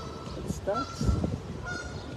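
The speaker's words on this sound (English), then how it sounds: "It's a duck." Geese honk nearby in a city park, a few short nasal calls bunched together, with people talking quietly beneath them.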